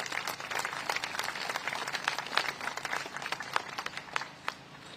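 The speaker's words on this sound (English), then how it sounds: "they deserve a huge round of applause" Applause from an audience at a Commonwealth Day memorial ceremony in London, a steady dense wash of clapping with sharper individual claps standing out, sustained throughout and tapering slightly at the end.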